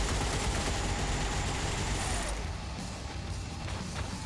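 Gunfire in the XCOM 2 video game, a dense continuous burst of rapid shots with mechanical clatter, loud and close, easing slightly after the midpoint.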